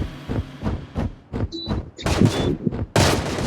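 Enemy gunfire in a video game, a rapid series of sharp shots cracking in short volleys, growing denser and louder toward the end with a few brief electronic tones between bursts.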